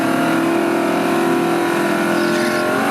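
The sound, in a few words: drag race cars launching and accelerating down the track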